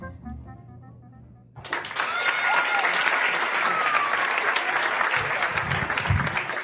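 A comedy club audience breaks into loud applause for a comedian after a quiet moment, dense clapping and crowd noise that swells and continues steadily.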